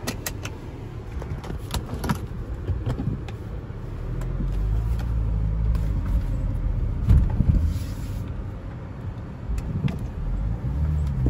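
BMW 335i driving along a rough road, a steady low engine and tire rumble with interior rattles and clicks, no talking.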